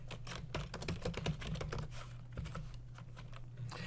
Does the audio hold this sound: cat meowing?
no